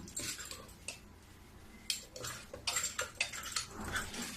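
A metal ladle stirs mango pulp in a kitchen bowl, giving a run of scraping and clinking strokes that come in bursts close by, with no one speaking.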